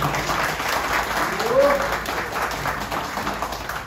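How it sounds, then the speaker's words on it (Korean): An audience at a book publication celebration claps for an introduced guest, a continuous wash of applause at moderate distance with a voice talking over it. "크게 박수 부탁드리겠습니다"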